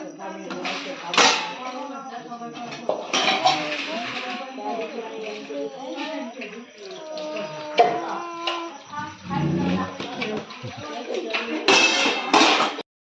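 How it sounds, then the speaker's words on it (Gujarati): A village woman wipes metal utensils, giving clinks and light clatters of vessels at close range over a long stretch while people talk. "ગુડી બેન વાસણ લૂછવા બેઠા છે. વાસણ લૂછાવે."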